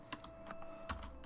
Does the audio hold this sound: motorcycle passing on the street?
no